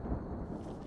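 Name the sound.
thunder before rain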